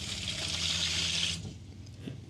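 The outdoor shower head on a 30-year-old conversion van turned camper sprays water in a close, bright hiss for over a second, then cuts off and leaves only faint drips and quiet surroundings.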